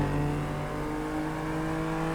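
A Dodge Hellcat engine runs loud and close, holding a steady, deep, humming roar throughout.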